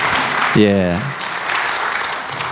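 A church congregation claps together in a hall, a dense, sustained patter of applause following a brief spoken syllable at the start.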